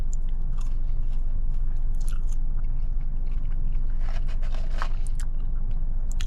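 Close, steady crunching of crispy fast food fries being bitten and chewed, with dense crackly bites repeating throughout and no talk.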